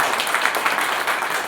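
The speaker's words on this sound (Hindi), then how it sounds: "जोरदार तालियां होनी चाहिए।" A seminar hall audience claps together in a dense, steady burst of applause, loud and continuous for its short length.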